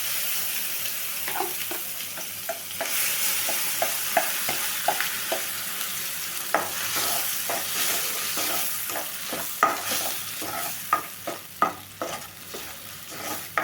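Ground ridge gourd thuvaiyal frying in a mustard and dried red chilli tempering, a steady hiss of sizzling oil broken by repeated sharp clicks and scrapes of a spoon stirring the paste in the pan.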